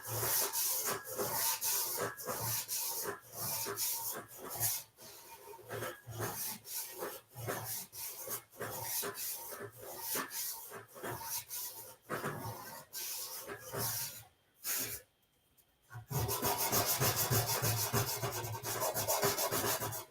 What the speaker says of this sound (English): you want your sanding to all be even, so you want to make sure you get the flange too.